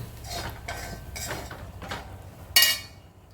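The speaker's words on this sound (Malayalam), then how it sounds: "നല്ലവണ്ണം കൂട്ടി യോജിപ്പിച്ച് മൂപ്പിക്കാം." Jackfruit tossed with chili powder in a pan for a Kerala thoran, with a spoon scraping in steady strokes close up and a single sharp metal clink near the end.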